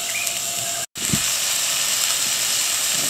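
Onions sweat in a GSI hard anodized Dutch oven, giving off a steady, close hiss and sizzle that drops out for a split second, then carries on at the same level.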